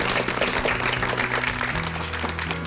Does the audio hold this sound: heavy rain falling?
no